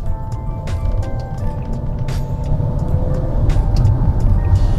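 A Chery Tiggo 4 with a Ford Powershift gearbox accelerates, its engine a loud, steady low rumble that builds slightly over a few seconds, heard from inside or close by with no talking.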